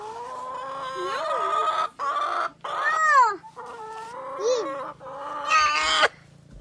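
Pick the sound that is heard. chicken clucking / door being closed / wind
chicken clucking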